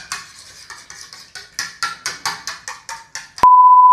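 An egg seasoned with salt and pepper is beaten in a bowl, giving a quick, regular series of about a dozen clicking whisk strokes, close and fairly loud, then an abrupt steady electronic tone at the end.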